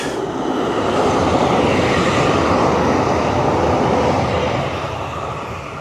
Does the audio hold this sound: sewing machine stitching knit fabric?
no